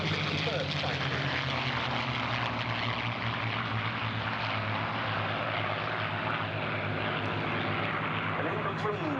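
A vintage propeller warbird, one of a pair including a P-51 Mustang breaking away to land at the Duxford air show, drones loudly and steadily overhead while a commentator speaks over the public address.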